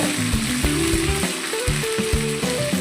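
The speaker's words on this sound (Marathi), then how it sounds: "मी एक चमचा इथं आद्र लसणाची पेस्ट टाकणार आहे त्याला पण छान तेलामध्ये परतून घ्यायचं आहे" Ginger garlic paste sautés in hot oil for pav bhaji, a dense continuous sizzle close to the pan with a few light stirring knocks.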